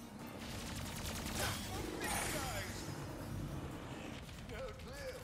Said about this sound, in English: Real bullets!